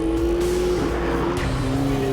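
McLaren 12C Spider driven hard on a race track, its engine holding a steady high whine that dips and climbs as it corners, with tyres squealing at the limit; loud and close throughout, no talk.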